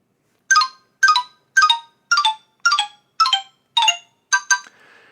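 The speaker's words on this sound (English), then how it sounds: "And there's the ringtone." A bright electronic phone ringtone repeats as a steady run of identical chiming notes, loud and close, then cuts off into a faint hiss.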